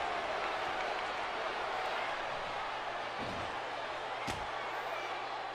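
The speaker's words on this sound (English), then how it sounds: "The crowd going wild here in San Francisco, California." Wrestling arena crowd in Legends of Wrestling, set in San Francisco, California: a dense, steady roar of cheering that fills the whole stretch, with a couple of sharp thuds cutting through it.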